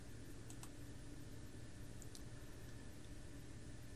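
A few faint, sharp computer mouse clicks on a Windows 11 PC, isolated taps over a low steady background hum.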